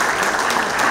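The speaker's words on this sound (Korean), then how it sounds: "큰 박수 한번 부탁드리겠습니다" A short burst of audience applause at a Lions Club anniversary ceremony, many hands clapping steadily and fairly loud.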